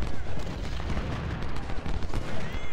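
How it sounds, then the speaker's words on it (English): Artillery fire in a Civil War battle in the video game Ultimate General Civil War: dense, continuous booming and crackling gunfire rolls loudly throughout with no break. "I gotta deal with that artillery"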